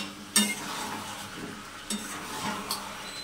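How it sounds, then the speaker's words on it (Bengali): Potatoes stirred into mutton frying in plenty of released oil, a soft continuous sizzle with a sharp utensil clank near the start and a few further light scrapes and knocks, close and alone. "মাংসের মধ্যে যথেষ্ট তেল ছেড়ে দিয়েছেন, ঠিক যেমন ভেবেছিলাম তেমনই হচ্ছে। এর মধ্যে এখন আলুগুলোকে দিয়ে দেবো।"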